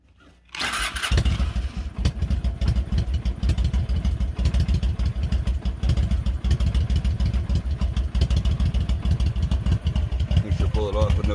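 A Honda Shadow 750 motorcycle engine starts and settles into a loud, close, steady idle with a busy mechanical clatter as it warms up on a hot day.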